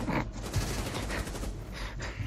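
Bursts of shotgun fire ring out in a tactical shooter video game, several rapid blasts in quick succession at moderate distance with no speech.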